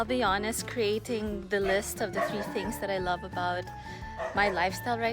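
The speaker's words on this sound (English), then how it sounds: "I'm sorry for the dog barking" Guard dogs bark and yip repeatedly in the background, fairly distant, under someone speaking steadily in the foreground.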